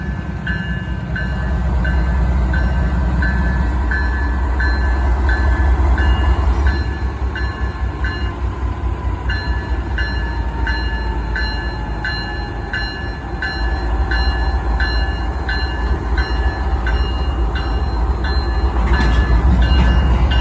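A train rumbles past close by, heavy and continuous, with rhythmic clattering of wheels and a faint high whine riding over the roar.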